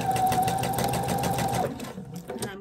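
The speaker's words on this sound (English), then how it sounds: "I'm going to do a back stitch or a fixed stitch and start sewing." A sewing machine stitches a recycled quilt in a quick, rhythmic burst, close and clear, slowing and stopping after about a second and a half, followed by faint handling sounds.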